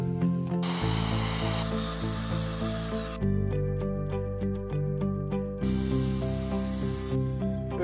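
Wood being cut with a power tool to make the end pieces of a chicken coop, a loud steady motor whine in long stretches with short gaps and a rattling, stuttering passage between cuts.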